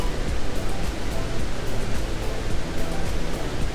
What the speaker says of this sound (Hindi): ये तेज़ी से बह रहा पानी